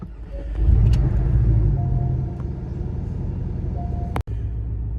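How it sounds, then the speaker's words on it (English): A Porsche idles just after a cold start, a deep, steady rumble with a louder, lower surge in the first couple of seconds that settles into an even idle, close by and without speech. "on that cold startup, it do kind of sound like a Ford Transit van"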